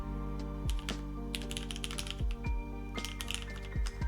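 Typing on a Keycult No.1/65 mechanical keyboard, close and clear: a quick run of crisp, clacky keystrokes in uneven bursts, with a few deeper thuds that suggest the spacebar.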